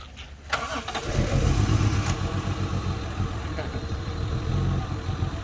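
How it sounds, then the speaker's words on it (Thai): A 1993 Opel car engine is cranked and fires up, turning over briefly before catching and settling into a steady running rumble close by. "เดี๋ยวเดี๋ยวติดเครื่องยนต์ให้ชมอีกรอบนึงนะครับ"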